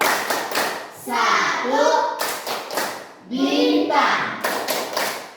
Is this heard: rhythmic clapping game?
yes